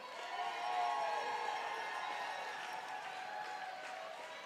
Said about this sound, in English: Big round of applause for our bat boy tonight, brother